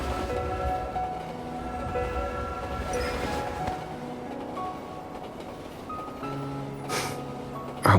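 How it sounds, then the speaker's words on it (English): A video game train departs, a steady rolling rumble with tonal horn-like notes and mechanical clanks, continuous and fairly loud with no talk. "Hold on tight. The train is about to leave."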